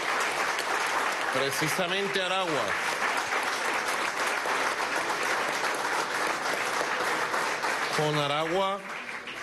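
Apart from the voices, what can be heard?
audience applause at hospital inauguration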